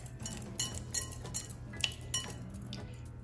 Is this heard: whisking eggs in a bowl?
yes